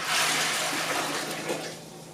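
Water poured into a container for dill pickle brine, a steady close splashing rush that fades slightly toward the end, with no talking.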